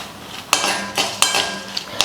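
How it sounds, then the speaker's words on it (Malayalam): Chillies and chana dal roast in a little sesame oil in a pan, stirred with four or five sharp utensil scrapes and clinks against the metal over a soft background hiss. "ഇനി വറക്കേണ്ടത് മുളകും കടലപ്പരിപ്പും അതിന് ഒരു ശക്കല നല്ലെണ്ണ ആവാം"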